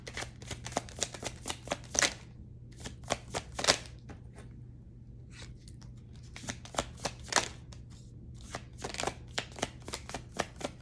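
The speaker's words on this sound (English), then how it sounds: "So let's pull a couple of the oracle cards." A deck of oracle cards being shuffled by hand, with quick riffling bursts in irregular runs separated by short pauses, close and fairly quiet against a low steady hum.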